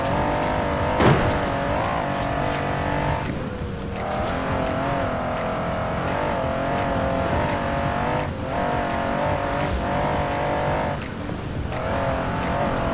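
A 6x6 twin-turbo V8 off-roader driven in Forza Horizon 4, engine roaring loud and close with repeated revving surges and pitch dips at gear changes, an occasional tire squeal, and no speech.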